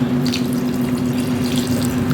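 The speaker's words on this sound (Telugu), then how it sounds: "కొద్దిగా వాటర్ వేసుకుందామండి." Water poured into a pot of dal with six chopped ripe tomatoes, a brief, steady, close pour with a low hum running underneath.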